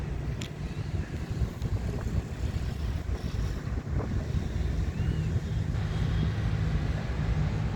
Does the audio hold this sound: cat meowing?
no